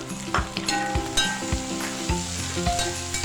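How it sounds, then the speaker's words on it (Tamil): Tomatoes and onions fry in a pan, making a constant sizzle broken by a quick series of scraping and stirring strokes that sound close and fairly loud. "போட்டு நல்லா தக்காளி வெங்காயம் நல்லா மெர்ஜார மாதிரி நல்லாவே நம்ம ஃப்ரை பண்ணிடலாம்."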